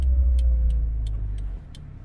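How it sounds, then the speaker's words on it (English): A Daihatsu Mira TR-XX Avanzato Turbo with a swapped engine gives a low, close rumbling idle that drops in level partway through, with faint rhythmic ticking above it. "So this car is going to make some hilarious noises"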